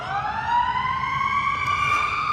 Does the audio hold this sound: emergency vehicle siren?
yes